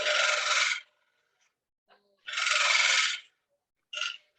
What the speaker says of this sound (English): 1/2-inch bowl gouge, and so just clean it up real quick, doing a pull cut using the wing of the tool